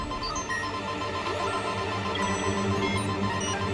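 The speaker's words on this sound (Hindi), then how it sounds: "ऐसी बीप बीप कर रही है।" A faulty machine emits a steady, continuous electronic beeping tone for the whole stretch, fairly loud and close, with no voices over it.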